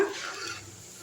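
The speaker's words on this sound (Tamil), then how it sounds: "நல்லா கலக்கி விட்ருங்க." A quick, soft scrape of a spoon stirring thick tomato curry in a pot, quiet and brief.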